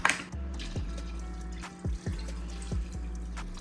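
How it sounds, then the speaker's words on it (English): Beef broth pours into a pot of oxtails, glugging and trickling close by, with rhythmic gurgles from the carton and splashes into the liquid, and no talk. "So, got another beef broth."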